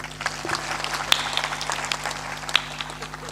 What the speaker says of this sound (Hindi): उसके लिए ताली बजा दीजिए